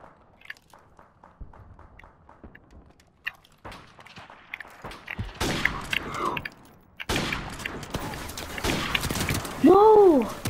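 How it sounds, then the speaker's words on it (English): Gunfire bursts from Call of Duty Modern Warfare Remastered follow a run of quick in-game footsteps. The shots come as dense, loud volleys mixed with faint player chatter, and a rising electronic whine sounds at the end. "I'm just gonna shoot him."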